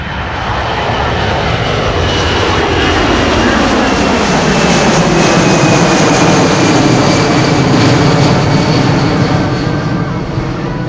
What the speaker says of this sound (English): Look at that massive aircraft leave the ground after that